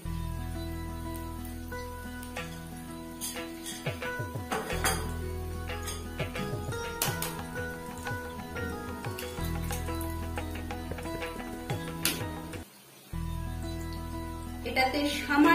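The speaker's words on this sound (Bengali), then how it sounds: "যতক্ষণ কাটলেটটা হচ্ছে ততক্ষণ আমি একটা ডিম ফেটিয়ে নিই।" An egg is whisked in a bowl for coating a Kolkata-style chicken cheese kabiraji cutlet, with quick clinking taps against the bowl repeating over a steady kitchen background and a brief pause near the end.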